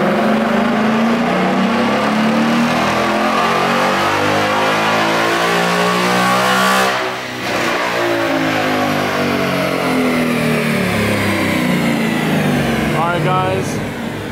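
A Ford Mustang S550 with intake, X-pipe and tune revs hard on a dyno, a loud continuous engine roar rising steadily in pitch across the run, briefly dipping at a shift midway, then climbing again to a high wail.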